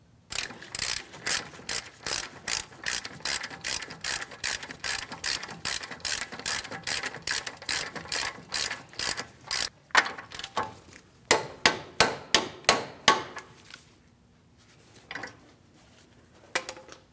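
A hand ratchet clicks rapidly in steady runs while tightening the front CV axle nut on a 2016–2025 Chevrolet Malibu, followed by a few slower clicks and metallic clanks, close and clear with no talking.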